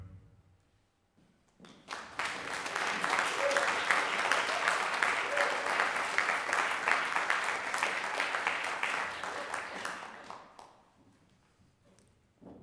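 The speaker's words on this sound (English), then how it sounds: "please give a round of applause for the host of this evening" An audience bursts into applause for the evening's host at a concert, swelling quickly from quiet, holding steady and full for several seconds, then tapering off to near silence.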